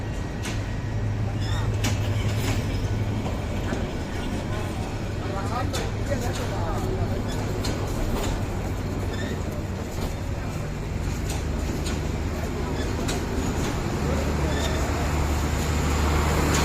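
Agnibina passenger train hauled by a 29-series engine pulling out of Mymensingh junction, a steady loud rumble with low engine drone throughout, people talking nearby.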